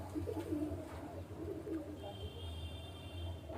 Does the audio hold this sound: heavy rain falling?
no